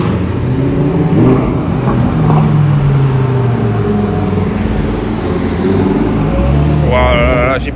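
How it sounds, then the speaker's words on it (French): Two Lamborghini Huracans, an Evo Spider and another Huracan, pass along a Monaco street amid steady urban traffic rumble, engine tones rising and falling as they go by, with someone talking over the noise. "Deux Lamborghini Huracan qui viennent de passer."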